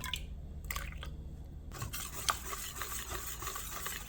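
Thin pancake batter for a seafood and green onion pancake is stirred after water is added, producing soft, quiet wet squishing and scraping close by, continuous and without talk.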